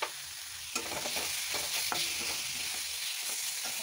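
Vegetables with potato, turmeric and dried fish sautéing and being stirred in a pan, a steady close sizzle with scraping stir strokes throughout and a couple of sharper clinks.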